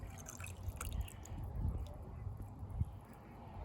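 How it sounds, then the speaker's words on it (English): Lemon sugar syrup pours from a container into water with a soft, continuous liquid splash and trickle, faint and close, with a few drips standing out near the end. "So I'm going to pour this into my water now."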